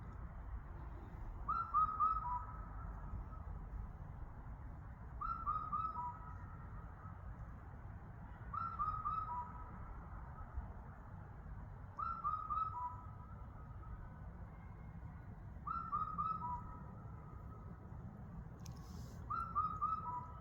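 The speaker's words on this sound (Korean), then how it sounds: "그런 새소리가 바로 검은등 뻐꾸기 소리입니다." An Indian cuckoo's repeated four-note whistled call, sounding about every three and a half seconds, clear and alone over a low ambient rumble.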